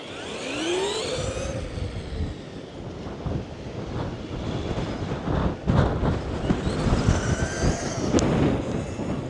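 Strong wind buffets the microphone during a Traxxas Mini Maxx RC truck run on a slope, with continuous low rumbling gusts, while faint whistling tones rise and fall in the background.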